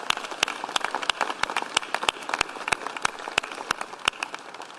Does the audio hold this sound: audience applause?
yes